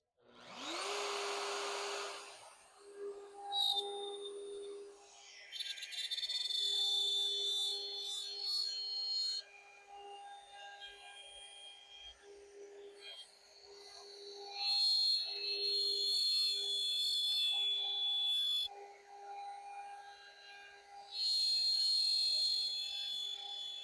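Metabo router whining at high pitch as it plunges and tracks through a sign template letter, its steady loud drone rising and dipping as the bit cuts, close and alone.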